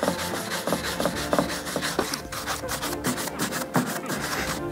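A rag buffs waxed wood during a restoration done without sanding, giving quick close rubbing strokes in a steady back-and-forth rhythm.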